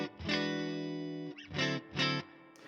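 Electric guitar through a Fender 65 reissue amp with PCB circuit, reverb and volume at 3, treble and bass at 5, tremolo off. One long ringing chord, then two short strummed chords, clean and fairly quiet, no talk.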